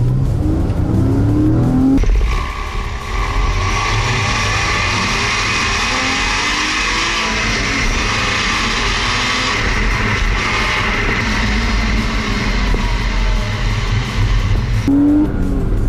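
A 986 Porsche Boxster engine revs hard and steadily to around 5,000 rpm for a long stretch, loud and close, with a rising whine and rough rumble; no talking.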